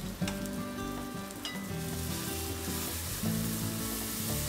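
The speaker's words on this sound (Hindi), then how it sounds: "अच्छे से मिक्स कर लेंगे और इसे भी अच्छे से भून लेंगे" Onion and ground tomato masala for a chicken korma fries in oil in a pan, with a steady close sizzle and the repeated scrape of stirring running throughout, with no talking.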